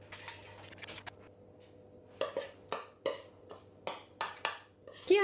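A spoon scooping vegan Oreo cupcake batter into paper liners in a tin, producing a steady series of soft scrapes and dull taps close by, roughly one every half second, over a low hum.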